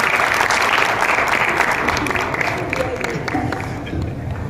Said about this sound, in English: Let's give them a huge round of applause, ladies and gentlemen.